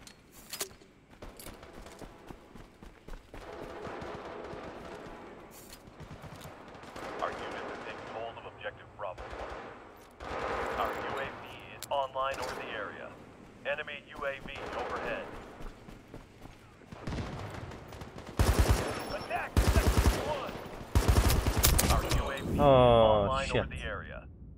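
Scattered gunfire and artillery fire in the video game World War 3 on the Polyarny map, mixed with bursts of automatic fire and heavy blasts that come louder toward the end, with talk over parts of it.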